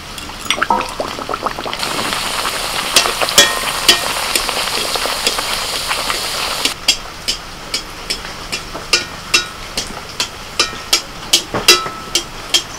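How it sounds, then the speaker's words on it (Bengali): Raj kachori frying in hot oil, a loud continuous sizzling hiss up close, followed by a regular series of ladle taps and scrapes against the pan as the frying goes on. "তেল গরম হয়ে গেছে, এবার ভাজার জন্য ছেড়ে দিচ্ছি।"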